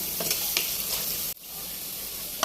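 Turmeric and chili powder fry in oil in a pan while being stirred, giving a steady close sizzle with scraping stir strokes, briefly dipping before the sizzling resumes.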